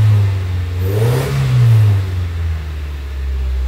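A supercharged Toyota 3RZ engine in a vintage 4WD Toyota Sunrader, warming up, rises into one loud, smooth rev and settles back to a steady idle, close by with no talking.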